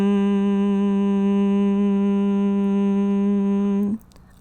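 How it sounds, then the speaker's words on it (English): A steady, pitched hum of a Bhramari bee's breath exhale in pranayama, sustained evenly for about four seconds before stopping abruptly with a soft breath. "bee's breath is a breath that sounds like a bee"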